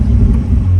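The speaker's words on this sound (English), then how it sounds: "you've gotta hear the engine." Ferrari engine rumbling with a deep, steady low drone and a sustained tone near the end, loud and close throughout, with no voices.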